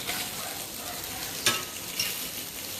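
Dried milkfish (daing na bangus) fries without oil in a Saladmaster pan, giving a quiet, even sizzle with a couple of brief crackling pops.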